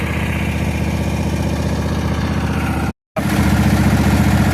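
Offroad tractor engine running with no muffler, a loud, steady, raw idle with a rapid low pulsing beat, briefly cut out once before carrying on just as harsh.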